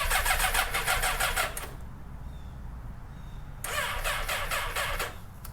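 In 12-degree cold, a car engine turns over on a lithium-ion restart battery in two close, loud rhythmic cranking bursts separated by a quieter pause.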